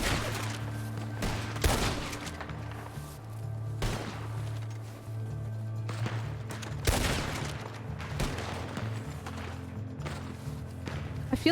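Sustained suppressing gunfire from a firefight in the Western game RedM, with repeated loud sharp gunshot bursts at close range over a steady low drone.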